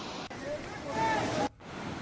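Strong water flows down from the hills at an overflowing dam in Dahod, a broad rushing roar under a speaking voice that cuts out abruptly for a moment near the end.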